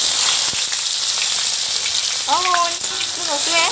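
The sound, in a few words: onion frying in pot of meat curry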